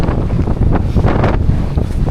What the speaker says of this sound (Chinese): 就介大风啊